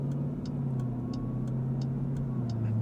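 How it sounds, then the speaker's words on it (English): Turn signal on a 2026 Dodge Durango Hellcat clicking in a steady, evenly spaced rhythm of about ten ticks, fairly crisp and close over the low hum of the idling engine. "Oh, and that turn signal sound,"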